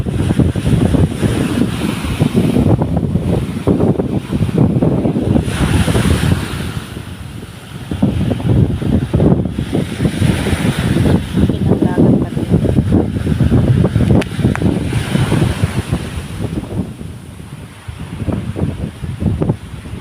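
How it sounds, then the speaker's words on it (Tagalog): Strong wind gusts buffet the microphone out on a wide, clear open sea, with waves surging and washing steadily underneath; the roar is loud and continuous and swells and eases throughout. "Lakas ng hangin"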